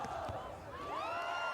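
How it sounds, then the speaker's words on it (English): A packed stadium crowd at a beach volleyball match in Rio cheers loudly in a continuous roar with rising whoops, filling the whole moment. "the crowd is absolutely loving it. It is so loud in this stadium."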